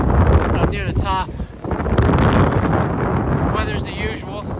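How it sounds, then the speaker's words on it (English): Strong wind gusts buffet the microphone near a mountain top on a cold, rainy day in North Carolina, a loud rushing roar that rises and falls, with a voice speaking briefly over it. "Really windy and rain."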